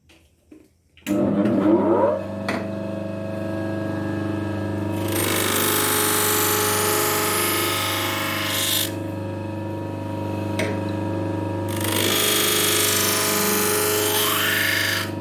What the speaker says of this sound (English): We start on the same felt wheel with autosol.